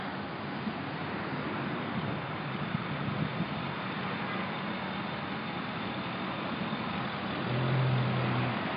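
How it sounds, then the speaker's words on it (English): A garbage truck drives past with a steady, rumbling engine noise, close and loud for several seconds and swelling a little toward the end, with no voices over it. "This looks like a garbage truck."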